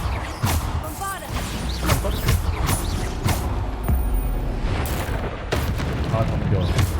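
Bombarda spell explosions in Hogwarts Legacy, a string of loud booming blasts with crashing impacts amid constant combat noise, spread through a busy spell fight.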